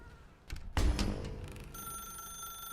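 A telephone rings in The Stanley Parable, its bright, steady electronic tone entering after a sudden loud thump and continuing alone to the end.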